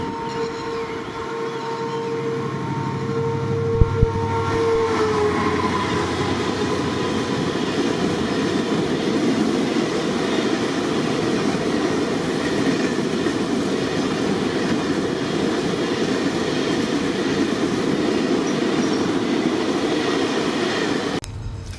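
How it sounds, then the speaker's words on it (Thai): A CSR locomotive hauling a container freight train passes by, its horn sounding briefly at the start before a long, loud rumble of rolling wagons and rhythmic wheel clatter continues steadily. "นี่มาแล้วครับ หัวรถจาก CSR พ่วงสินค้า มาบตาพุทธชุมทางบัวใหญ่"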